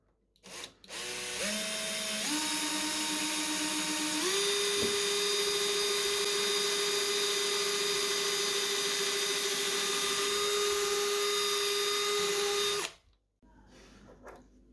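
A cordless power drill spins up in stepped bursts, then holds a loud steady whine while boring holes for cabinet pulls, cutting off abruptly near the end with no talking.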